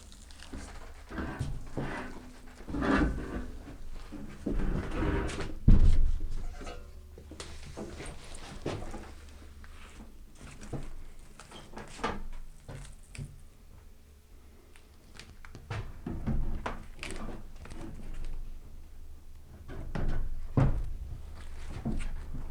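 A metal roll-up shed door is stood upright and dragged toward a wall, giving irregular clanks, thumps and scraping rattles at close range, some louder knocks among quieter shuffling, with no speech.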